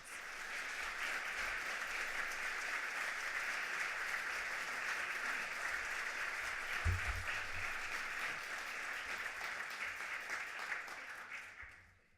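A university audience applauds to welcome a speaker, with steady sustained clapping filling the room before it tapers off at the end.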